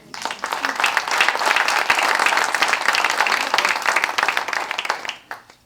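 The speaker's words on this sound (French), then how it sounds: "Je vous prie de l'applaudir." A conference audience applauds a speaker being introduced, a dense, steady wash of many hands clapping that builds quickly, holds strong for several seconds, then trails off into a few last claps.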